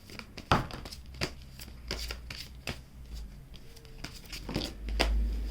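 Tarot cards shuffled by hand for a pick-a-card reading, a run of close, crisp riffles and slaps in uneven bursts, with a soft low thump near the end and no talking.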